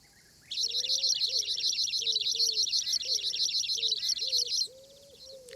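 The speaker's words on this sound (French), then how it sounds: "C'est un oiseau." Bird chirping close by: a rapid, even run of high tweets lasting about four seconds, with a lower cooing or warbling call repeating underneath, then quiet.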